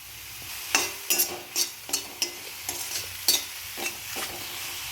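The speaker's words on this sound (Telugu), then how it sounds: "ఆయిల్ పైకి వచ్చేదాకా ఫ్రై చేసుకోవాలి." Sliced mushrooms frying with turmeric and salt in a pan of oil, a quiet sizzle punctuated by repeated scraping stirs of a spatula at an irregular rhythm, with no voices.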